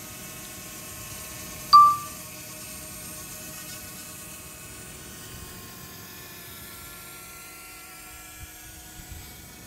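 A DJI Mavic Mini drone flies at a distance, giving a faint, steady whine that shifts slowly in pitch. A single bright ding sounds early on, and no voices are heard.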